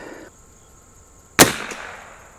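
A single sharp rifle shot from an Anschutz 54 Match rifle at a target cracks loudly after a quiet stretch, then decays in a short reverberant tail.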